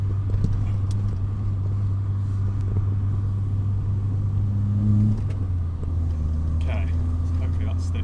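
Peugeot 205 GTI cabin noise while driving: a steady low engine drone and road rumble throughout, with the engine note shifting pitch partway through as if changing speed, with brief faint sounds and no clear speech.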